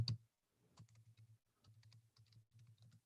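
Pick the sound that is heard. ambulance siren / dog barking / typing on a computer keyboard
typing on a computer keyboard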